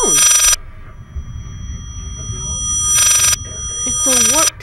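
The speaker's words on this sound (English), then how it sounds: "Oh crap, it's a phone." A warped telephone ringing in the horror video game Layers of Fear, loud sustained bursts of electronic ring separated by pauses, with strange bending tones between them and a voice speaking over the game sound.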